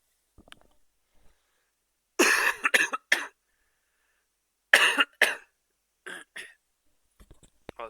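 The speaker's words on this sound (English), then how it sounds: "this really is a coughing stream here" A person coughs in several separate harsh bursts, a few quick coughs together each time with quiet gaps between, close and fairly loud with no talk.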